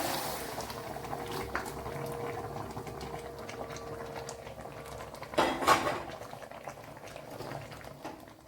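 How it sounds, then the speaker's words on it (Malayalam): Cooked vegetables are poured into a pot of simmering sambar masala, a brief wet splash and slosh over a low steady bubbling with faint clinks from the pot. "ഇതിലേക്ക് ഇനി വെന്തിരിക്കുന്ന വെജിറ്റബിൾസ് ഒഴിച്ചു കൊടുക്കാം."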